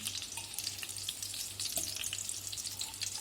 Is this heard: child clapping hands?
no